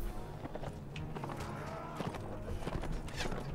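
Horse hooves clip-clop in the Mount & Blade Warsword Conquest video game, a quick irregular run of hoofbeats mixed with scattered clatter from a battle.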